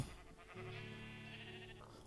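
A farm sheep in Minecraft lets out a single drawn-out bleat, close and clear, lasting about two seconds with a wavering tone and nothing else heard.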